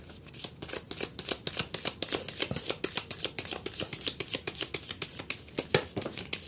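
A deck of tarot cards is shuffled and handled during a reading, giving rapid rhythmic riffling bursts close up and repeated steadily with no talk.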